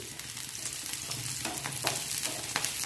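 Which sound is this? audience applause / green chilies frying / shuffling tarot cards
green chilies frying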